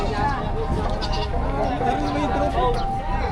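Goats bleat repeatedly amid a busy livestock market in Padre Garcia, Batangas, their wavering cries overlapping with a constant babble of people talking nearby.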